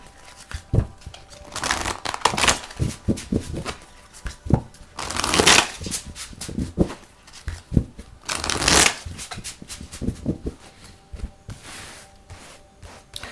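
Fairy Tarot cards by Doreen Virtue are shuffled up close in repeated riffling, crinkly bursts with brief pauses between handfuls, loud and without talk.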